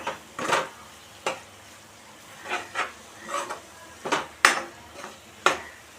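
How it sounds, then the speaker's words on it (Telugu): Spice paste for ivy gourd curry fries in oil in a pan, with spaced metallic clinks and scrapes of a spoon stirring against the pot and a faint sizzle underneath, close and intermittent. "ఈ పేస్ట్ కూడా నూనెలో బాగా ఫ్రై చేసుకోవాలి"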